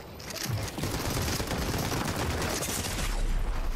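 Rapid, dense gunfire from the Fortnite video game, with shotgun blasts and crackling shots layered into a continuous loud barrage that stays heavy and unbroken the whole time.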